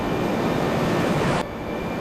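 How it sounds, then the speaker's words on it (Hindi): A passenger airplane speeds down a runway at Mumbai airport for takeoff, a loud, dense, steady roar heard up close that cuts off suddenly after about a second and a half, leaving a quieter hum. "विमान रनवे पर दौड़ा।"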